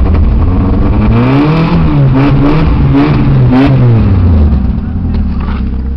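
A car engine cold from its first start of the day revs rough and loud close by, pitch rising and falling in repeated surges, with voices talking over it.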